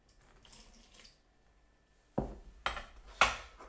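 Water poured into a bowl of baguette dough made from T65 wheat flour, salt and yeast, a quiet lead-in followed by a few close, loud splashing bursts against the bowl.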